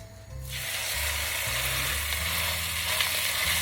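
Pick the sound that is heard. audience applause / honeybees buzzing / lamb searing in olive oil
lamb searing in olive oil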